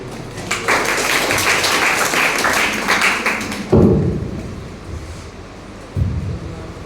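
Audience applause at a student talk on sustainable development, a broad wash of clapping that fills the first few seconds and then fades, followed by a couple of dull thumps.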